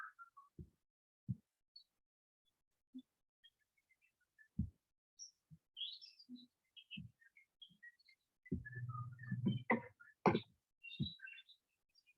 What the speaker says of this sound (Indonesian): Tapi suara burungnya mengganggu, Pak.